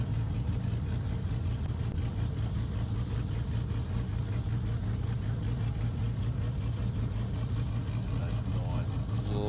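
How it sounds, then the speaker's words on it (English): A drag racing car's engine holds a steady, rough drone as the car slowly edges forward at a race meeting, with a faint voice beneath the engine noise. "Slowly edging the car in."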